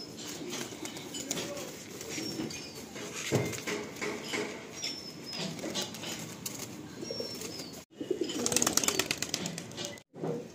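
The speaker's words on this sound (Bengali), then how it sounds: "এই পায়রাগুলো আকাশে ছেড়ে দেওয়া হচ্ছে" Madrasi pigeons coo and flutter nearby, with a burst of flapping wings near the end after a brief pause as they are released; steady bird activity throughout, no talking.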